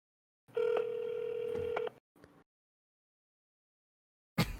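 A phone call being dialed in a GTA roleplay game on a San Andreas server, a steady dial tone for about a second and a half, then a short beep and silence before another sound cuts in at the end.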